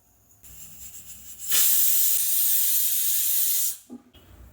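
Cooking oil sizzles loudly in a pan on a gas stove as vegetables and prawns are readied, a bright hissing burst lasting about two seconds that stops abruptly, with quieter kitchen noise before and after.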